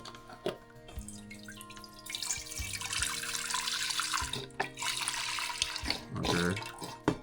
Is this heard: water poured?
yes